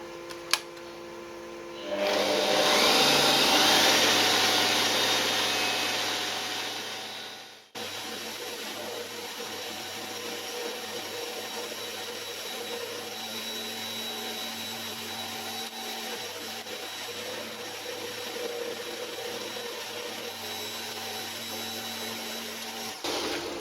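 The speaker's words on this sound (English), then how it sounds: "I might take the fly cutter out, put the milling cutter back in" A homemade milling machine runs with a milling cutter fitted, giving a loud rising whir of cutting for several seconds that stops sharply, followed by a steady lower machine hum.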